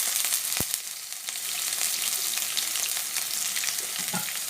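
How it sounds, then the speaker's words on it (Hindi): Chopped green chilli and ginger fry in a pan for a wheat flour pasta dish, a continuous bright sizzle with an occasional clink and stir, no voices. "चलिए हम सबको अच्छे से मिला के फ्राई कर लेते हैं।"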